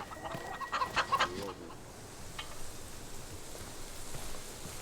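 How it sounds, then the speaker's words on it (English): Chickens in the video game Roy Goes to Albion cluck in a quick burst of overlapping calls near the start, then the scene goes quiet, leaving a soft rain-like hiss. "Come on, chickens."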